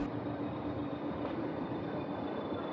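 The Ooty heritage toy train stands at Aravankadu station, giving a steady, faint low hum and idling drone with a thin constant whine, unchanging and alone without talk.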